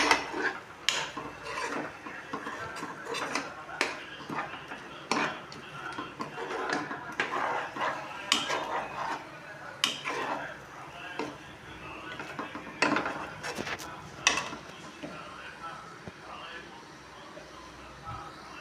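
Spatula scraping and stirring egg fry in a pan, repeated rasping strokes and light metallic clinks in an uneven rhythm, moderately quiet, continuing under a person talking.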